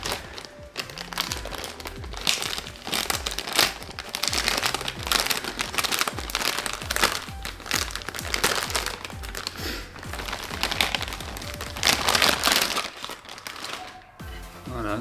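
Plastic packaging of a tinted motorcycle helmet visor crinkles and crackles up close as it is unwrapped, busy and continuous with sharp snaps, while someone speaks intermittently.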